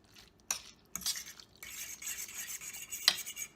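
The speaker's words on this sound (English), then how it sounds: "And there we go, stirring it right up." A spoon stirs cashew cheese sauce thinned with almond milk in a pot, giving soft scraping and clinks with a few sharper taps, close and fairly quiet, with no talking.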